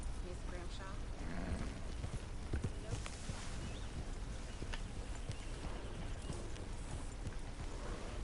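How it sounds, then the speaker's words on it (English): Horse hooves clip-clop at a steady walking pace in a Western video game, close and continuous beneath a dense bed of game ambience and music. "I don't even know if that's my horse."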